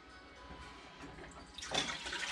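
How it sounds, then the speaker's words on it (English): Cooking oil poured from a fat separator back into a pan, a quiet faint trickle that swells into a fuller, brighter splashing pour near the end. "I'm actually going to pour that back into my pan"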